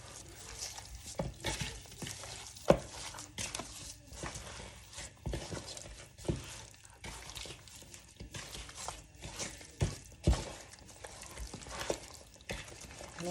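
A spoon stirs stewed chicken ingredients in a pan, making repeated scraping and clattering strokes at an uneven rhythm, with a soft sizzle underneath and a few sharper knocks against the pan.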